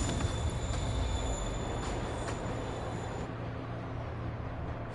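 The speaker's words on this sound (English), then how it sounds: "Train's moving. Lee's getting away." A moving train in the Marvel's Spider-Man Remastered video game rumbles steadily and loudly, with a continuous low roar and faint metallic squeal from the rails, and no talk.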